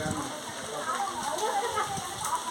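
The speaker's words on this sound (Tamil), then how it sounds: "மழை பெய்ய ஆரம்பிச்சிருச்சு." Rain falls steadily in a home-town yard, a continuous close patter with scattered drops striking surfaces, heard on its own without talking.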